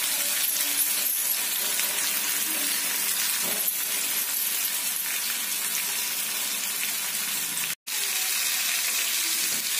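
Masala with chili powder sautés in a pan over a low flame for raw banana fry: a steady, close hiss of frying that is stirred slowly and gently, with a momentary break near the end.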